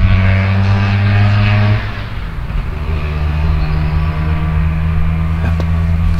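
A tuned Vespa PX scooter with a Quattrini 265 engine drives past close by, its loud buzzing two-stroke drone dropping in pitch as it passes, then humming steadily on into the distance.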